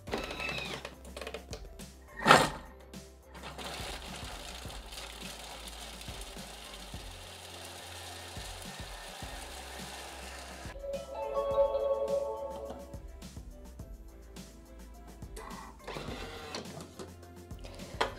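A Thermomix TM6 food processor chops parmesan and pecorino cheese, whirring and rattling as its speed rises, with a sharp clunk early on and a louder grinding stretch partway through.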